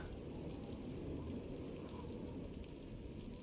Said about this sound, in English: the soft sounds of the rain doubled in volume